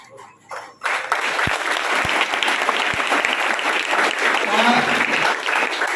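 An audience bursts into dense, sustained clapping after a brief quieter moment, holding a steady roar of applause to the end.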